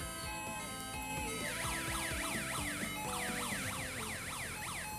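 A loud homemade five-tone electronic siren sweeping up and down in a fast, repeating wail like a police escort or ambulance, steady and close, with a low rumbling hum underneath.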